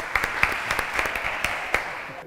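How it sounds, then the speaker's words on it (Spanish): Audience applause at a book presentation for La Voz Alzada by David Delfín, dense clapping from a crowd with several louder individual claps standing out near the recorder, brief and cut off abruptly. "voy a pedir un aplauso a todos para él"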